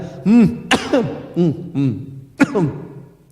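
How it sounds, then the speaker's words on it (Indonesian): A voice produces a string of throaty coughs and throat-clearing sounds, close and fairly loud, in uneven bursts. "ada batuk nek, ada batuk"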